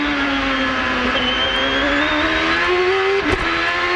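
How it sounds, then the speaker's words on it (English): Onboard engine of a Champ Car race car at the 2007 Houston race, loud and close, holding a high whine that climbs steadily before a brief dip and shift near the end. "By listening to the engine, you can tell how his power down is."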